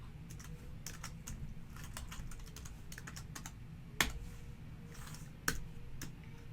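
Keys clatter on a computer keyboard as a password is entered, a quick run of light, close clicks with two sharper keystrokes near the end, over a faint steady room hum.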